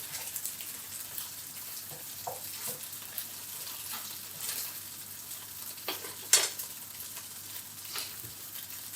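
Homemade gnocchi browning in a hot frying pan, a quiet continuous sizzle with scattered soft clicks and taps of utensils moving the pieces, plus one sharper metallic clink.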